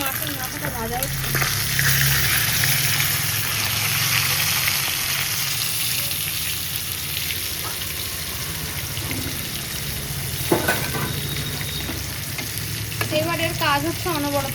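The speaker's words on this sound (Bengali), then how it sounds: "এই যে মাছের মাথাটা ভাজা হচ্ছে" Fish head frying in oil in a home kitchen pan, a steady close sizzle with stirring scrapes, occasional brief voices in the background.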